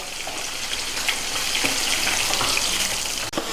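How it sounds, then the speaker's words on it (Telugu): Onions sizzling in a pan while being fried for okra (bendakaya) fry, a steady broadband crackle and hiss with no voices over it. "ఈ ఉల్లిగడ్డను కూడా పచ్చివాసన పోయేంతవరకు పండుగ వేపుకోవాలి"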